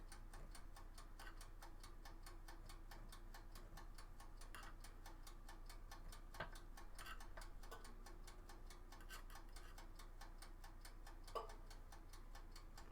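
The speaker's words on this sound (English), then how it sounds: "You mean the buzzer, like the ticking?" Steady, even ticking of a clock or timer runs through the whole stretch, quiet and constant over a low background hum in a room where sculpting is under way.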